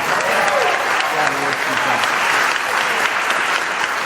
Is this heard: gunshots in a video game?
no